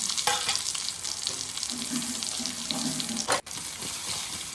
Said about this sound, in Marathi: मसाला भरलेली वांगी नंतर यामध्ये टाकून तेलामध्ये परतून घेतली